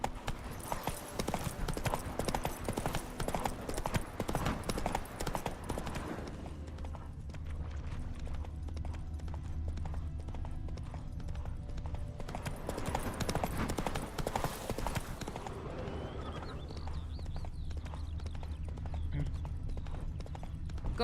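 Roach, a horse in the video game The Witcher 3, gallops in a fast, rhythmic clip-clop of hooves, broken by two stretches of slower, softer hoofbeats and a low rumble, with game sounds around them.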